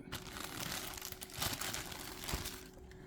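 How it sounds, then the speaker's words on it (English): Plastic wrapping being peeled and unwrapped from a boxed anime figure, close crinkling and crackling in uneven bursts, fairly quiet with no talking. "So we'll unwrap the plastic from around her whole body and her hair"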